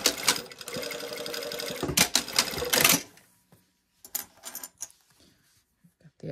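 A sewing machine stitching the hem of a pair of pants runs in a fast rattling burst for about three seconds and then stops. Afterward come scattered clicks and handling noises.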